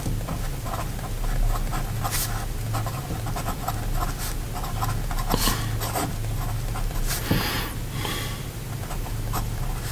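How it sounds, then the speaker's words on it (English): Parker Duofold Centennial fountain pen writing on paper, a soft, close scratching and scribbling texture with small taps and strokes over a steady background hiss. "But here we go with the writing sample."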